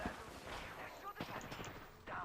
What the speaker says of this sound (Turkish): Bomba geldi